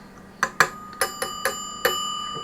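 Electric bell inside a Geemarc Mayfair telephone giving a series of six sharp metallic dings at uneven intervals, each ringing out briefly with a bright decay, close and clear.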